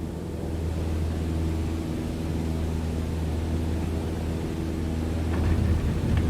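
A simulated aircraft engine drones steadily as its power is cut in Microsoft Flight Simulator 2020, a loud, even low hum with airy noise that shifts slightly near the end, with no voices.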